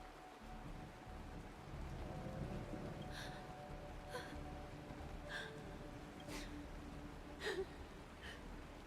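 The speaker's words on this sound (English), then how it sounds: "It is raining." Steady rain falling in the Honkai Star Rail video game, a broad even hiss throughout with faint, soft tonal chimes drifting above it at intervals.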